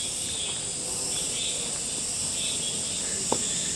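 Cicadas drone steadily in a forest beside apartment blocks in Cheonan, South Korea, on a summer mountain hike, a continuous high shrill buzz with pulsing swells, plus one brief sharp tick near the end.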